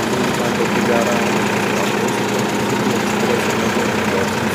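A Sonalika DI-35 tractor engine runs steadily by a river, giving a constant, fairly loud broadband rumble with no clear fade as it pulls away.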